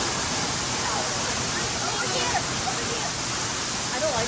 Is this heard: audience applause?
no